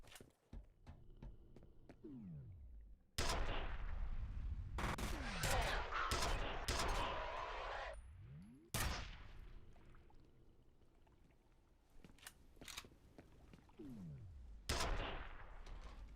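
Heavy shotgun blasts from F.E.A.R., several loud booming shots spaced irregularly with ringing, rumbling tails, alone without talk.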